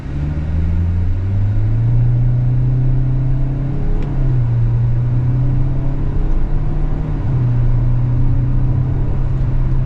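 Engine of a 2025 Kia Soul GT-Line with an IVT in manual mode, stepping through simulated gears: a steady, loud drone holds, then drops in pitch at each shift, about three times, with no talking.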